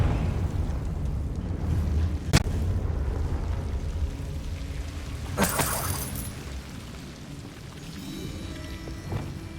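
A Confringo fire spell in Hogwarts Legacy goes off as a sharp crack followed by a burst of fiery explosion and crackling debris, set against a low rumbling game ambience, with a second softer impact near the end.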